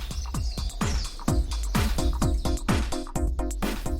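Birds recorded in the flooded Amazon region of Cuyabeno, Ecuador, set into music: rapid repeated downward-swooping chirps and calls, fairly close and clear, layered over a steady musical backdrop.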